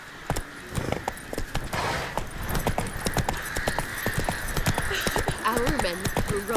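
Roach the horse gallops in The Witcher 3: Wild Hunt on PlayStation 5, with steady rapid clip-clop hoofbeats close up throughout, mixed with game voices and ambience.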